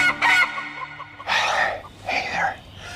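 Chickens in a backyard coop, a few short clucks and squawks in separate bursts, close and fairly loud.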